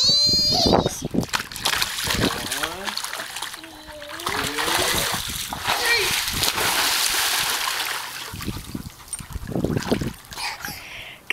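A sharp splash as a child cannonballs into fresh water, followed by sloshing and dripping, with excited voices and squeals around it nearby.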